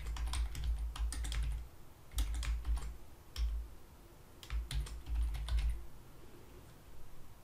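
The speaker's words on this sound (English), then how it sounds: "I'm going to double-click on the text and type his name" A name is typed on a computer keyboard in short, quiet bursts of quick key clicks with brief pauses between them, close by and faint, with no speech.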